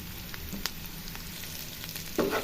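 Curry leaves, ginger garlic paste and turmeric fry in a pan with a quiet, steady sizzle, and a brief stirring scrape comes near the end.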